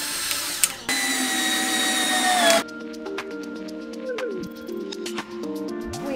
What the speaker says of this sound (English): As you can see, now we're cutting the wood.